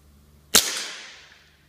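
A single sharp crack from a Crosman 2240 CO2 air pistol running on a 12-gram cartridge, close and loud, followed by a brief fading hiss in an otherwise quiet space.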